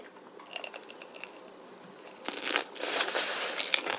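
Crisp crunching bites into a crispy fried rice cake and sausage skewer, a few scattered crackles at first, then louder dense crunching and crinkling up close.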